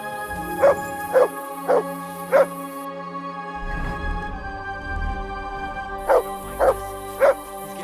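Mutt, a dog in the video game Kingdom Come Deliverance II, barks four times in even succession, pauses amid low rumbling, then barks four more times, close and loud.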